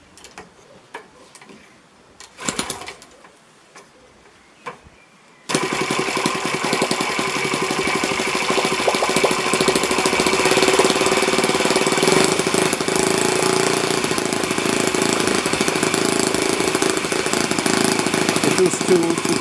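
An Enya 46 4C four-stroke model engine with a glow plug: a few sputtering, fitful attempts, then it catches and runs steadily at a loud, close, rapid buzzing idle for the rest.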